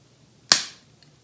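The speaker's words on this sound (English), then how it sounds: "So I have to close it until I hear a click" A saliva collection tube's cap snaps shut with one sharp, close click, then a faint tail and near silence.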